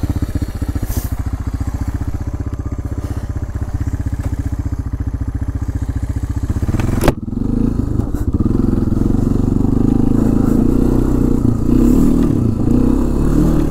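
Honda FourTrax 300 4x4 ATV engine running close and loud, a steady throbbing idle that shifts after a sharp clunk into a heavier, rougher drone as it pulls away.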